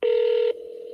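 Telephone keypad tones for the digits 8 and 3 pressed during a call to a seller behind spam call filtering: one loud, steady beep about half a second long, then a quieter sustained tone.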